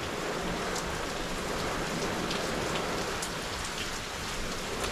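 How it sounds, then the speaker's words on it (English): Steady heavy rain pours down in a windy storm, a dense continuous hiss with scattered louder drops striking nearby surfaces, constant and fairly loud throughout. "Getting windier and it's raining more and more."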